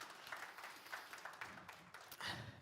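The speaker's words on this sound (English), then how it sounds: "You can give those guys a round of applause for that." An audience gives a round of applause at a Bible reading gathering: a faint, steady patter of many hands clapping, quiet and distant, with no voices over it.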